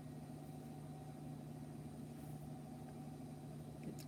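A household washing machine runs steadily in the background, a constant low hum with faint mechanical rumble and no talking over it.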